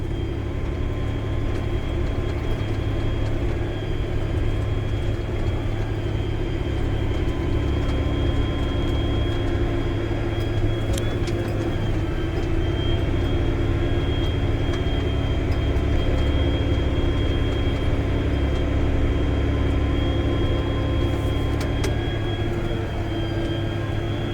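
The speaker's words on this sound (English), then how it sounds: "that 620 has got some kahunas when it comes to pulling a drill" A John Deere 620 tractor pulling a seed drill, its steady engine drone running loud and constant with no breaks, heard close and alone.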